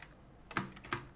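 Two crisp computer keyboard key presses while typing code, close and quiet with nothing else around them.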